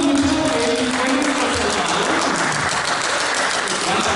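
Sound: audience applause

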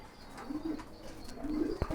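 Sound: pigeons cooing

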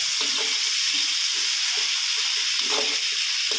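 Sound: stir-frying red curry paste in a pan until dry

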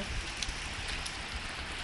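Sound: heavy rain

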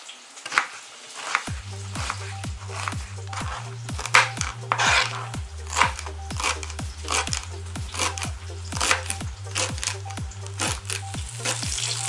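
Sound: knife chopping onion, tomato and herbs

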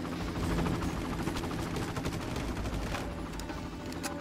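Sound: helicopter in the video game Far Cry

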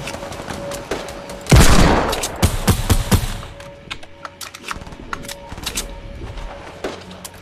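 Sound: gunfire in the video game Fortnite

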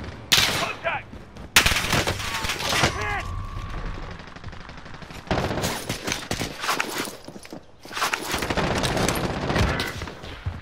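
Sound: gunfire in a video game

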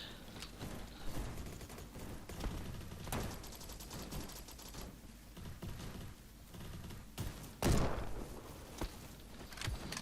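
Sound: gunfire in the video game Roblox Bad Business

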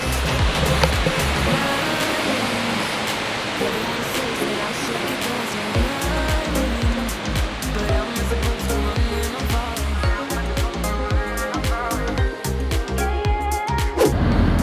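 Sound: Grand Falls waterfall in New Brunswick

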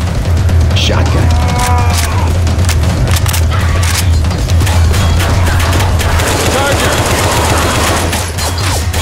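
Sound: shotgun firing in the video game Left 4 Dead 2

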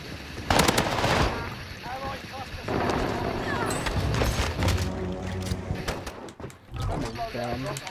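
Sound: gunfire in a console shooter video game

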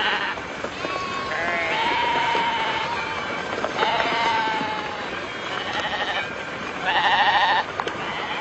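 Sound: sheep bleating as a Judas goat leads them

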